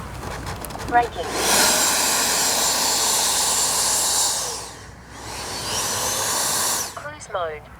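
Freewing 90mm Eurofighter Typhoon RC jet, flying: a loud, hissing electric-ducted-fan roar that rises, holds, dips sharply for a moment, then surges again before fading, with brief radio-style voice chirps at the edges.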